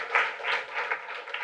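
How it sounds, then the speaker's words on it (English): A short burst of audience applause at a talk, moderately loud and a little uneven, in irregular waves of clapping. "Give him a round of applause."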